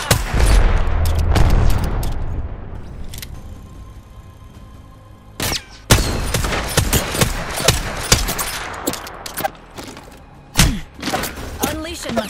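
Gunfire and ability effects in a shooter video game, with sharp repeated shots and impacts over dense layered game sound, loud and busy throughout.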